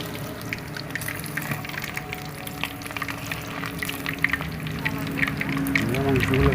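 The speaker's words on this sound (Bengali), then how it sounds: "আমরা একটু মাংসগুলো ভেজে নেবেন, তা না হলে ভিতরে কাঁচা থেকে যাবে" Chicken pieces frying in a pan for pakora, a steady crackling sizzle with scattered pops that swells toward the end, with voices faintly in the background.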